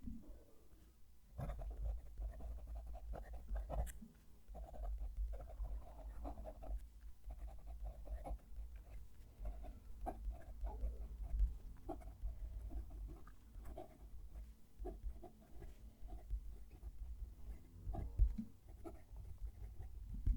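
A nib from a cheap Japanese fountain pen scratches faintly across paper in short strokes and pauses, quiet and close over a low background hum.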